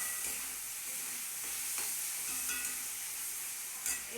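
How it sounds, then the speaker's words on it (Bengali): Potatoes and vegetables sautéing in a wok, a steady close sizzle with stirring scrapes and occasional spatula clicks, ending in a brief clatter. "এবার আলুটা ঠিকঠাক একদম ভালো করে কষিয়ে নিতে হবে"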